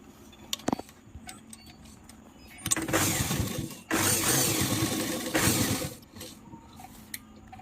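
A sewing machine stitches a petticoat in loud mechanical runs. Brief clicks and handling noises come first, followed by long whirring bursts of rapid stitching with short pauses between them.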